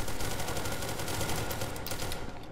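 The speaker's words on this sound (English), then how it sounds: "Oh! Gunfire." Automatic gunfire in the video game SCP: Secret Laboratory crackles in a dense, rapid, continuous stream of shots, loud and sustained for the whole stretch with no voices over it.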